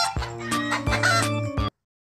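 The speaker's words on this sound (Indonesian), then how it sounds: "Itulah suara ayam" A rooster clucks and crows in a short, loud, close burst of repeated calls that cut off abruptly.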